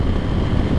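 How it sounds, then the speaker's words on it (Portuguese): Heavy wind buffeting a microphone during a top-speed run on the water, a constant low rumble and roar that fills the whole stretch without any break. "Muito vento."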